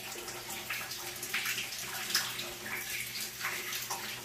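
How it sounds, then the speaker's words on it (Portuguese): Young girls being bathed in a bathtub at home, water sloshing and splashing in soft, irregular bursts close by, with no talking. "Olha só, gente, tomando banho."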